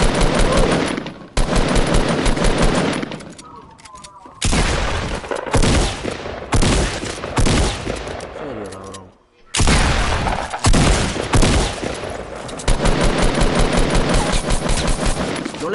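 Gunfire in the tactical shooter game Squad: loud bursts of automatic fire and single shots in rapid volleys, broken by brief pauses, with players talking over the shooting.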